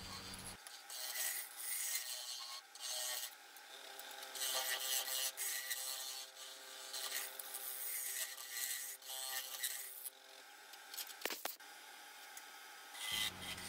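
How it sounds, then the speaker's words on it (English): Easy Wood Tools carbide-tipped hollower cutting the inside of a resin-filled wooden bowl on a lathe: a steady, faint scraping rasp that rises and falls in intensity, with no talk. "This is the Easy Wood Tools #1 hollower with a carbide tip on it"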